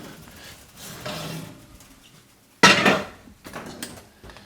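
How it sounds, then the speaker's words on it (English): Heavy cast iron Dutch oven lifted out of a hot oven, soft rummaging followed by one loud metallic clank and rattle, then a few lighter knocks. "let's take our Dutch oven out of the oven"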